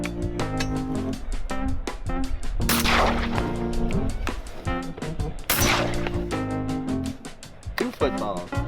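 Shotgun blasts while hunting ringneck ducks in a Louisiana marsh, two loud sharp reports several seconds apart ringing over a bed of background music.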